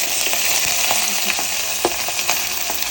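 Onion pieces sizzle steadily in hot oil over a tempering of dried red chilies, mustard seeds, cumin and fenugreek, with a dense continuous hiss broken by occasional sharp pops and spoon scrapes close by.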